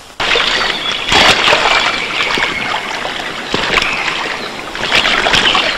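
River water rushes and splashes continuously nearby, a loud steady flow with occasional sloshing surges, no voices.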